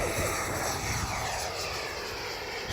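Arrows RC Marlin 64 EDF model jet flying overhead, its electric ducted fan giving a steady, loud whooshing whine that holds evenly for a few seconds with no voices.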